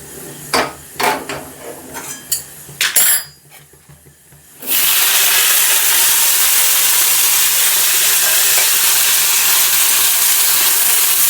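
Okra frying in a hot pan: a few clinks of utensils come first, then a loud, steady, crackling sizzle takes over and holds without a break to the end.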